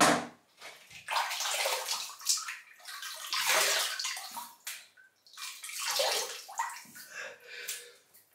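Running water from a tap splashes and sloshes as a face is wetted before a wet shave, rising and falling in close, uneven bursts with short pauses between handfuls.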